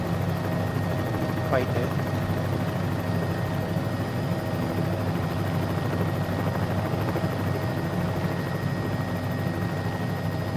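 A Bell 206B helicopter in Microsoft Flight Simulator cruises with a steady, loud rotor and turbine drone that holds constant throughout, while someone talks briefly over it.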